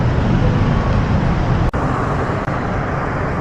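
Road traffic near Boni heading toward the crossing, a dense steady roadway roar of cars and buses in congested flow, loud and close, broken by two brief dropouts in the sound.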